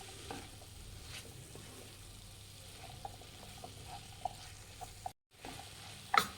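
Cabbage and chickpea stir-fry cooking in a pan, a soft steady sizzle with occasional light clicks of a spoon stirring, faint and close, with a short silent gap near the end.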